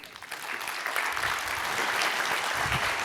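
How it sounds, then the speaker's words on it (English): Warm audience applause greets a keynote speaker at a forum, a broad, sustained wash of clapping that swells slightly and holds steady, with faint low thumps underneath. "A warm applause, please."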